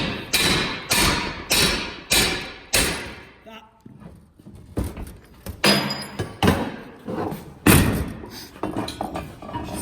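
Repeated heavy thumps of a forcible entry tool being driven into a door, several evenly spaced blows, then a pause with shuffling and more strikes, close and loud.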